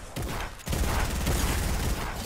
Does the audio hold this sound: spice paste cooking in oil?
no